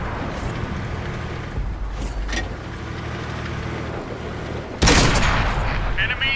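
The Pz.Kpfw. V/IV, a tier 5 premium tank in World of Tanks, fires its cannon in a sudden loud blast near the end, over a steady engine rumble with softer distant shots and impacts earlier.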